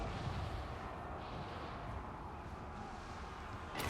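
Cannon artillery in Total War: Warhammer 2, a dense rumbling battle din of distant booms and gunfire rolling continuously, fairly faint, with a sharper blast at the very end.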